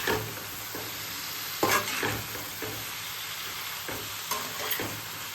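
A dozen rough-chopped green chillies frying in a pan for matar paneer. The sizzle is constant, with repeated scraping stirs and clinks of the spatula breaking in at intervals.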